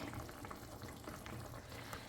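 Water used to rinse a tomato dish pours into a simmering Fiji-style masala fish curry, a steady low splashing and trickling that runs the whole time with a faint sizzle beneath.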